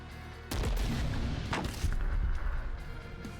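Mortar fire in The Last Spell game lands as heavy booming blasts, two loud impacts with deep rumbling tails over a low continuous game ambience, with no talk.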